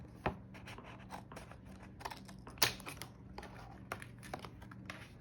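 Scissors cut a clear plastic cash envelope in a series of short, crisp snips and crinkles close by, with one sharper cut in the middle and quiet room tone between, no talk.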